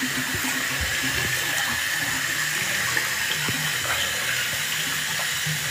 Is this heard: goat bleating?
no